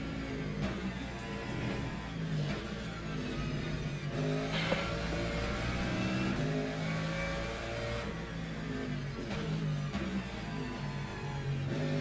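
Race cars lapping Imola in the Le Mans Ultimate sim, engines droning and revving steadily throughout with shifting pitch, occasional tire squeal and a close rival car running nearby, loud and continuous without talk.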